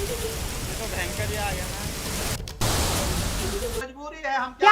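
Heavy rain falling in Himachal Pradesh, a steady dense hiss that runs nearly the whole time, loud and close, before a voice briefly speaks at the end.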